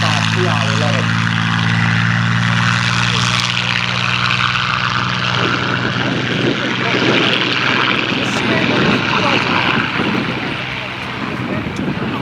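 A Spitfire PR 11's piston engine drones at an airshow as the aircraft rolls, a steady propeller roar in the distance rising in intensity, with an announcer talking over it.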